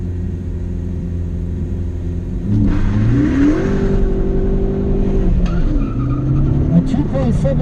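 A Ford Focus race car launches off the line at a 2018 Pro Solo autocross event in Oscoda, Michigan, its engine revving and climbing in pitch with tire squeal, while an announcer talks over the roar.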